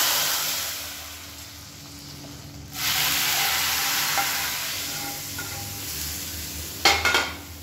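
A hot tempering of shallots, dried red chillies, mustard seeds, urad dal, cumin, fenugreek and asafoetida is poured into sambar, setting off a loud hiss and sizzle that holds steady, followed near the end by a few sharp clinks of a metal pan.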